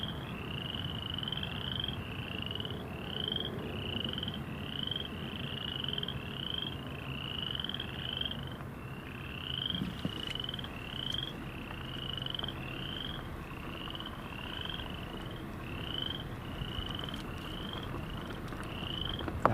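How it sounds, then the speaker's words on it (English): Tree frogs call outdoors in a steady, continuous chorus of rapid repeated croaks, with no talk and a faint background hum beneath the calls throughout. "I'm hearing tree frogs, or whatever they are."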